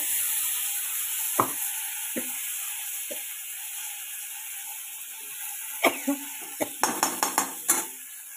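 Ground cumin, fennel and green chilli paste sizzling in hot tempering oil, a steady hiss broken by sharp clinks of a utensil against the pan, scattered early and then in a quick cluster near the end.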